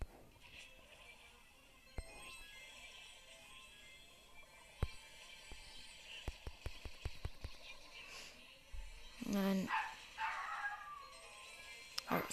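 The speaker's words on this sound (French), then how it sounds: "Il y a le chien qui commence à gueuler." A dog barking indoors, a burst of sharp yaps and whimpers clustered in the middle, mixed with clicking and louder clattering, with a low background hum throughout.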